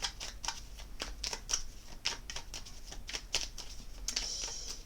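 Fairy oracle cards are shuffled by hand in quick, uneven riffles and light slaps, a soft close patter of papery clicks with no talking.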